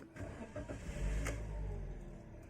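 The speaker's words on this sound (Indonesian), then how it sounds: "Kita start hingga mesin hidup." A Daihatsu Sigra car engine cranks and catches, then settles into a steady low idle rumble that fills the rest of the short moment close by.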